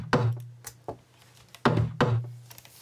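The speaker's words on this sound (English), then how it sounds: "So I've used it to completely take some of the drum hits out of this loop." Drum loop built from a tom sample, processed with an extreme gate that cuts some hits out entirely, leaving sparse, punchy thumps separated by near-silent gaps, moderately loud with no voices.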